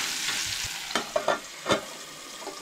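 Cauliflower frying in a pan makes a soft, steady sizzle close by, with a few brief stirring scrapes partway through.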